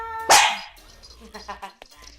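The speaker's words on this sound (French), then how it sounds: "Elle aboie beaucoup hein." A female dog lets out one loud, sharp bark close by, followed by quieter sounds as someone speaks.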